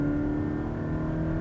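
Toyota GT86 coupe with a 2-litre flat-four boxer engine, driven on a motorway, revving hard with a steady, loud droning tone and a low rumble that holds throughout, no voices.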